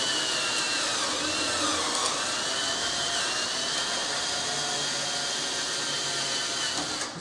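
A battery power drill whines steadily and loudly for several seconds while drilling a tungsten rod, a continuous high-pitched motor drone with no talking.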